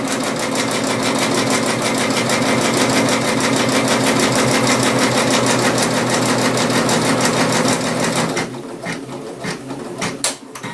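An industrial sewing machine stitches through thick leather, running loud and steady with a fast regular needle rhythm, then slowing and stopping near the end with a few short mechanical clicks.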